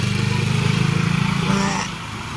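A motorcycle engine runs close by with a steady low drone and rhythmic pulsing that fades somewhat toward the end, as if passing, with faint talk underneath.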